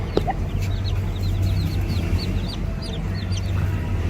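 Hens strut around a yard, clucking in quick, chattering bursts over a steady low background hum, the calls fairly close and overlapping throughout.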